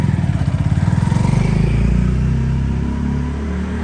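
A 2024 Venom X22R Max 250cc fuel-injected street motorcycle pulls away, its loud close engine pulsing in a rapid, even chug that rises in pitch and then fades slightly as it moves off.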